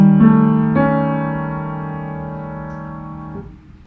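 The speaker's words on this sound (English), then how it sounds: "if I wanted to make it a French augmented sixth" A sustained French augmented sixth chord rings out, with a second attack just under a second in, then holds steadily and fades, clear and close with no voices.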